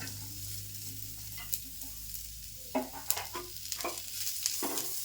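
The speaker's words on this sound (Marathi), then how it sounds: "आता मी कांदा पण भाजून घेते" Onion is dry-roasted in a pan for dhaba-style Maharashtrian shev bhaji. Soft frying hiss sits under repeated sharp scraping stir strokes, which grow busier in the second half, with no talking.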